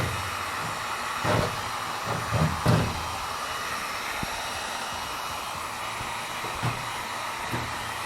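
A heat gun heats a decal on a 1995 GMC van, giving a steady, broad blowing hiss that runs throughout, with a few soft knocks and scraping sounds over it.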